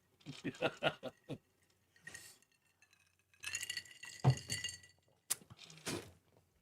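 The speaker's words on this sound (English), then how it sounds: "we haven't heard ice cubes clank like that on a show since Eric Beckshard" Ice cubes clanking in a glass: quick bursts of bright clinks, a rapid rattle at first and then a few scattered knocks, with soft voices between them.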